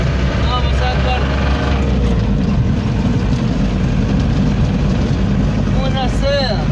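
A Rastrojero truck's engine drones steadily while driving in third gear, a rough continuous rumble with road and wind noise, heard from inside the vehicle without any voices.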